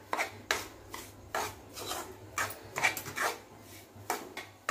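A spoon or spatula scrapes semolina around a pan as it roasts for sweet laddoos. The rasping strokes repeat in a steady rhythm, close and fairly quiet, with no talk.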